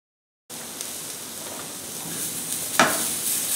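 A hamburger patty frying in butter in a small pan, starting abruptly out of silence with a steady close sizzle. It builds slightly, with a brief clatter of utensil against pan partway through.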